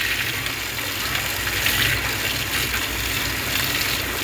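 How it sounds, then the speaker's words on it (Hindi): Water gushing under pressure from a newly fitted submersible pump, a steady, loud, continuous rushing spray that holds at an even level throughout with no talk over it. "ये देखें आप कितना प्रेशर है पानी का।"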